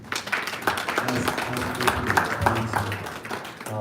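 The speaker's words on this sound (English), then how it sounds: "Can we give him a round of applause?" A round of applause at a talk show and general election convention, a crowd clapping steadily with dense overlapping claps under scattered voices, fairly loud and sustained.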